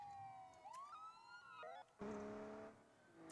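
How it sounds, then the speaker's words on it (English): In BeamNG.drive, police sirens wail in the distance as wavering rising and falling tones, shifting into a faster yelping pattern partway through, heard alone without talk. "I do hear some sirens, so it looks like someone might be catching up"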